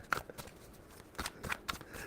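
Tarot deck shuffled by hand in a quiet room, a handful of soft crisp riffles and taps spaced unevenly over about two seconds, faint and close.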